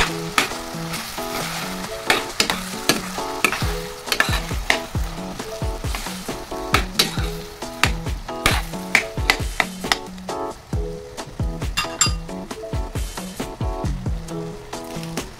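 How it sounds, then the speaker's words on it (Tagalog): Ground pork with carrot and potato for menudo sizzles in a pan under a rapid, rhythmic series of spatula strokes and scrapes, loud and close throughout. "At isunod natin ang patatas. Siyempre guys, haluin. Haluin lang."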